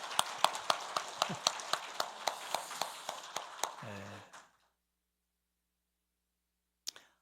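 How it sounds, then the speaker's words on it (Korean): Rhythmic hand clapping in a church Sunday service, about a dozen steady, evenly spaced claps over four seconds that stop abruptly, followed by silence and one isolated clap near the end. "박수 한번 해주시죠"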